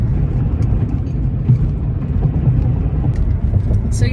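A car driving on the road, giving a steady, loud low engine and road rumble heard from inside the vehicle, continuous and without talk.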